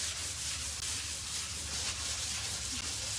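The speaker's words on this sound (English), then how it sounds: "So really lightly, and you're just letting the sandpaper do the work." Light hand sanding of timber with sandpaper during a finishing job, a steady soft scratchy rubbing that runs on continuously, close and fairly quiet, with no talking.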